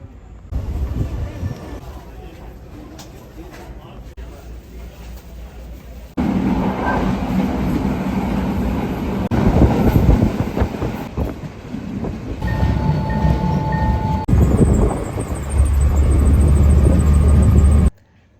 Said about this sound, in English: The train was moving as we were getting off